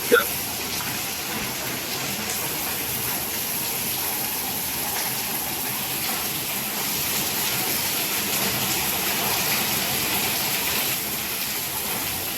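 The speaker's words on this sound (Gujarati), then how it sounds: "કેવો વરસાદ આવે જો મિત્રો" Steady, dense rain hiss from a downpour during a thunderstorm pours without a break for the whole stretch, loud and close, with a faint voice at the very start.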